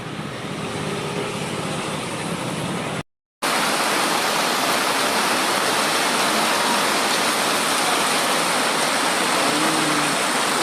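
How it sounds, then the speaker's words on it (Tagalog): Steady, heavy rain hissing on surfaces at a bus terminal, dense and continuous, broken by a brief moment of silence near the start. "inabutan kami ng ulan dito sa terminal ng Dagupan"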